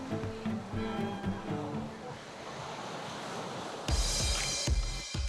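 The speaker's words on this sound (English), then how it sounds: "For now, the focus is on the waves." Waves break and wash along the Gower coast in Wales, a steady roar of surf with wind buffeting the microphone. Louder splashes surge in near the end.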